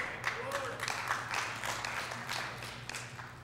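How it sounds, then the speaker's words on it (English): Sparse, light applause from a church congregation, scattered claps in a loose patter at middling distance that fades out after a few seconds, with some talking underneath. "That was pitiful applause"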